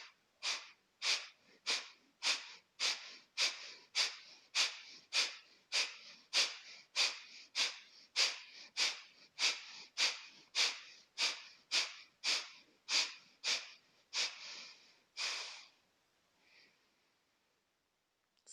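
A yoga exercise for fighting fatigue fills the space with deep, even breaths, a steady run of about twenty loud, close breathing cycles in a regular rhythm, ending in one longer exhale and quiet.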